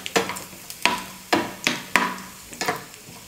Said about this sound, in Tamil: நெய் நல்லா உருகுனதுக்கப்புறமா முந்திரி சேர்த்துக்கிறேன்.